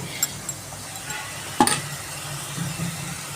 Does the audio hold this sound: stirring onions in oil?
yes